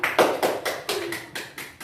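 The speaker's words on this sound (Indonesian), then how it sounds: "Berikan tepuk tangan kepada kelompok 2." Classroom clapping for a student group during a microteaching lesson: about eight distinct, fairly close hand claps in a loose, slow rhythm, with no talking.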